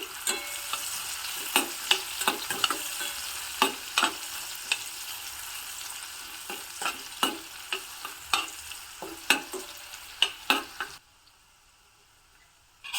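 Finely chopped onion and two green chillies fry in a pan of ghee, a steady sizzle broken by frequent sharp clacks of a spoon stirring against the pan, until the sound cuts off near the end.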